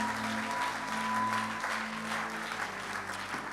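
A church congregation claps and cheers in praise of Jesus during a sermon, dense sustained applause with scattered voices, steady throughout and moderately distant.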